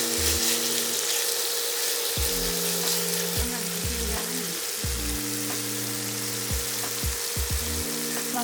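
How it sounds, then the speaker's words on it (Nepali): Chicken stir-fries in hot oil with a dense, loud sizzle throughout, under a low background hum that rises and falls in tone. "सुरुमा चाहिँ चिकनलाई हल्का स्टर फ्राई गर्नु होला, मजाले ब्राउन टाइपको गर्नुपर्छ"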